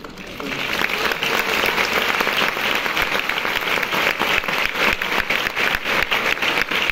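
Steady applause from a concert audience at Le Grand Rex, many hands clapping continuously at an even, moderate volume throughout.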